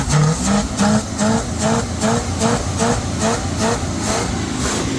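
A classic Chevrolet pickup truck, running for the first time in years, revs its engine steadily up close, giving a loud, throaty, pulsing roar with a regular rhythmic throb throughout.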